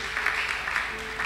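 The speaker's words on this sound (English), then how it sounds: "are you still clapping?" Audience applause at a church sermon, a steady dense clapping wash that runs unbroken through the moment, with a faint sustained tone beneath it and no speech on top.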